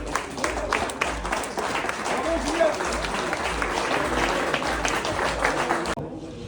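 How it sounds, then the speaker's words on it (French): A crowd claps and cheers at a French awards-day gathering, sustained dense applause with voices mixed in, cutting off abruptly near the end. "Allez, applaudissements"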